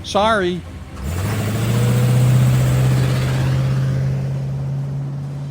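A car pulls back onto the road, its engine rising into a steady, loud drone that holds and slowly eases, following a short opening burst of other sound.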